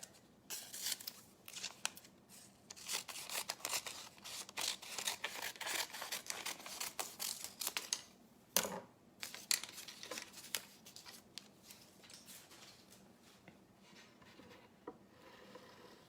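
Scissors snip and trim a Prima ReDesign furniture transfer sheet, a soft close series of crisp cuts and paper rustles at an uneven pace, with quieter handling near the end.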